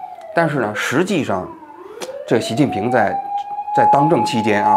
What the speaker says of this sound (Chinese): 这是救护车，我不知道是救护车还是什么啊